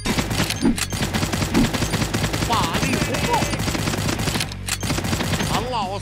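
Automatic rifle fire from the video game Black Gunner Wukong rattles in rapid bursts over a game soundtrack, with a few brief tonal effects and short gaps between volleys.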